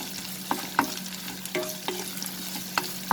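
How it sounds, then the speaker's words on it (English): Onions sautéing in hot oil, a soft steady sizzle with a few sharp stirring clicks scattered through, close and moderately quiet, prepared for a prawn and sponge gourd dish. "I'm going to saute the onions"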